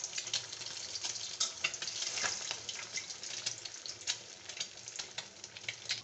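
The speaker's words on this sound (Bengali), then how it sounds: "গরম হয়ে আসছে, এখন ডিমটা ভেজে নেব।" An egg fries in hot oil in a pan, giving a steady close crackling sizzle with small pops throughout and no talking.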